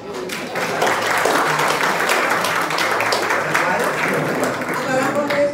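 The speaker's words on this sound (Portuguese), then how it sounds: "E cadê os aplausos?" An audience gives sustained, dense applause at a choir performance, loud and continuous, with voices mixed in under the clapping.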